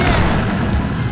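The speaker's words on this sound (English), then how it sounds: "Barely dodged those explosions." A brief, dense burst of booming, crashing video game explosions in Tomoyo Fighter Perfect, loud and close, lasting about a second.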